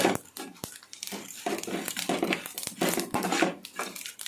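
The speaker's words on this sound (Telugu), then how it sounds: "చూసారా ఆవాలు చిటపట్లు ఆడుతున్నాయి" Mustard seeds spluttering in hot oil while tempering for a ridge gourd and sesame curry, a dense crackle of irregular pops and bursts, fairly close and steady throughout with no talk.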